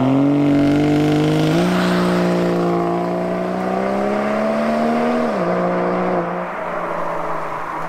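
A Volvo V60 Polestar accelerates hard in sport mode. Its engine drone climbs steadily and loudly, with brief dips at the gear shifts, and the note eases off at the end.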